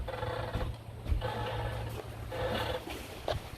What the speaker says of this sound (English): And you can hear those lines.